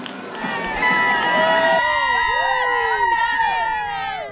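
Crowd of spectators at a triathlon cheering athletes from the sidelines, loud whoops and excited shouts layered over one another, close and sustained, with voices calling out throughout.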